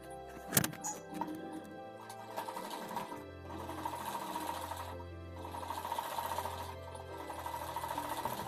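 A sewing machine runs steadily while attaching a sleeve to a ladies' suit, a close mechanical whir with a brief sharp knock near the start.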